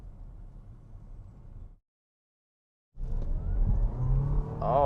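A 2023 Audi A6 2.0 e-Hybrid Quattro saloon in dynamic mode gives a low engine drone from inside the cabin, cuts out to silence for about a second, then returns louder as the car accelerates hard with a rising engine note.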